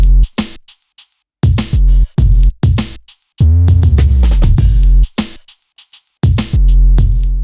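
A Eurorack modular synthesizer plays punchy drum hits and deep subbass, with loud booming kicks, sharp clicks and a swooping bass note between short silences.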